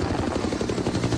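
A Bell UH-1 Huey military helicopter, nearly fifty years old, is heard as a steady, loud rotor drone with rhythmic low-frequency blade thumping that continues for about a second, with no voices over it.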